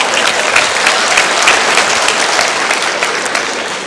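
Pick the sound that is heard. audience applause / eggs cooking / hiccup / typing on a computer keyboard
audience applause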